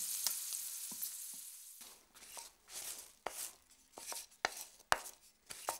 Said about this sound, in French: on va juste les laisser revenir un petit peu dans l'huile comme ça